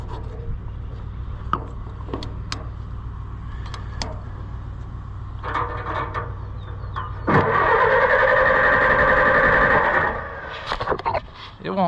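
An Allis-Chalmers WD tractor engine cranks for a few seconds without catching, a loud steady churning starter drone after scattered clanks and handling noises, then cuts off; a voice is heard earlier.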